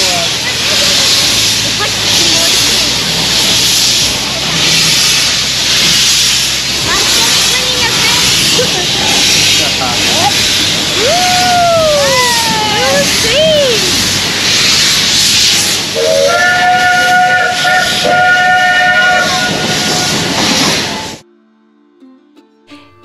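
The Puffing Billy Railway steam train near Melbourne hisses loudly and steadily for about twenty seconds, with rising and falling whistle tones partway through and a harmonic whistle blast near the end before the sound stops abruptly; voices mingle faintly.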